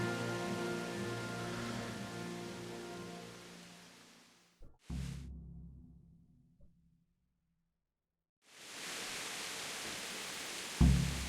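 Rain in a medieval video game cutscene, a steady broadband hiss of rainfall that fades out, breaks off into near silence with a brief burst, then returns with a thump near the end.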